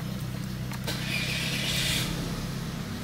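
A newly bought automatic car with a sinking clutch starts up: a brief cranking burst, then a steady low idle rumble with a faint hiss.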